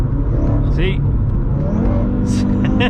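An Audi RS3 with a stage 3 hybrid turbo build pulls hard, its engine note rising steadily into a loud, sustained drone, with brief higher whooshes from the turbo and a voice speaking over it.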